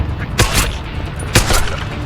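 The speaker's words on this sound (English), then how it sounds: "Gunshots!" Two sharp gunshot bursts in the video game Deus Ex: Human Revolution, about a second apart, loud and punchy, each followed by a short echoing tail over a low background rumble.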